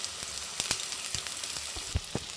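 Onions, carrots and beans sauté in a pan with a soft, steady sizzle, broken by a few sharp scraping and stirring clicks.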